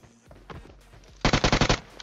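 Rapid automatic gunfire in the PUBG Mobile battle royale on the Erangel map, a loud burst of about eight evenly spaced shots in the second half, preceded by a few scattered quieter impacts.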